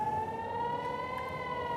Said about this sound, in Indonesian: sirene menyala ke seluruh penjuru kota